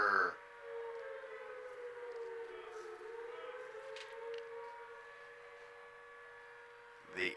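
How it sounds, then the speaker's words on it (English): An air raid siren plays over the speakers as a walk-up song at a high school baseball game, a steady wailing tone that holds and slowly bends in pitch for several seconds, heard from a distance. "The air raid siren for Jake Esker."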